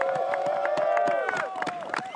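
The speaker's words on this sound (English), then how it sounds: "Getting the applause and support from the side of the piece" Spectators cheer and clap from the side of the course for a para alpine skier in a super combined slalom final at the Beijing 2022 Paralympics. The crowd noise sits under excited commentator talk.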